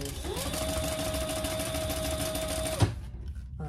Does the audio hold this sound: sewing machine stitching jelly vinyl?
yes